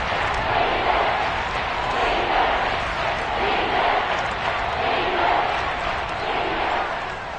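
A steady, dense stadium crowd roar from the Madden 22 football video game, played on PS5 at the Seahawks' stadium, swells and eases slightly while holding loud and continuous throughout.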